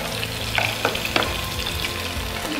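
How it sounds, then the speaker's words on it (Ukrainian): Mushrooms fry in a pan during outdoor cooking in the Chornohora mountains, giving a loud, steady close sizzle broken by a few sharp stirring clicks over a low rumble. "Це ми обсмажуємо грибочки. Грибочки обсмажуються гарненько."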